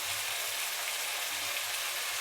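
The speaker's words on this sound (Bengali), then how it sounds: "তেল চপচপ করতেছে যেটা" Mola fish and pointed gourd fry in a pan of oil with no broth or water left, giving a steady, fairly quiet sizzle that hisses evenly throughout with no voices.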